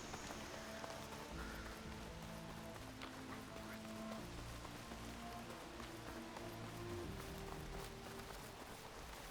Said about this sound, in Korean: 비가 내리네